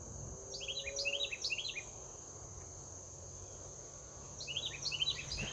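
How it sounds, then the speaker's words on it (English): Two bursts of quick, high bird chirps ring out over a steady insect drone, with a quieter gap between them. "Listen to the bird."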